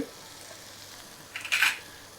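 Capsicum seasoned with pepper is tossed in a hot pan, giving a short burst of sizzling and scraping about midway through an otherwise quiet stretch.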